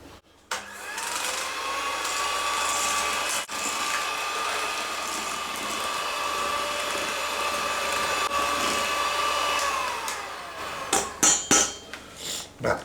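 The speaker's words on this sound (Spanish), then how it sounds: "vamos a batir muy bien batido esta mezcla del azúcar con las yemas" Electric hand mixer whirring steadily as it beats sugar into egg yolks for a creamy cheese biscuit, a continuous motor tone holding for about ten seconds before stopping, followed by a few clattering knocks.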